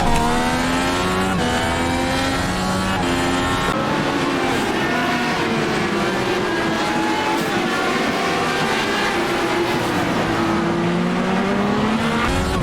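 Dallara IR18 open-wheel race car at Spa-Francorchamps in the sim-racing game iRacing, accelerating hard. Rising engine tones climb and shift continuously, loud and close, with no talk over it.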